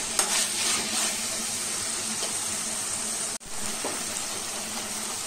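Ingredients for aloo paneer gujiya fry in a pan with a steady, even sizzle and a short drop in level partway through. The sizzle stays close and continuous, with no one talking.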